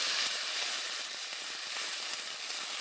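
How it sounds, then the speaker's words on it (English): Crushed garlic sizzles steadily in a pan over a low to medium flame, a soft, even frying hiss with no voices. "things are getting quickly roasted in the pan"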